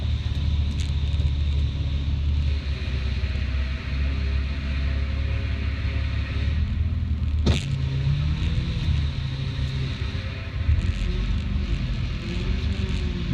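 A 2000 Mercury Sable LS drives through an underground parking garage, its engine rumbling steadily with low road noise and a brief sharp knock partway through.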